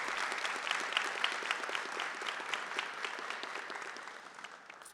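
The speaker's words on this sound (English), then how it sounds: "A round of applause, please, for Manroop." A school auditorium audience claps for a student receiving a Seal of Biliteracy in Punjabi at a recognition ceremony, giving even, sustained applause that tapers off gently near the end.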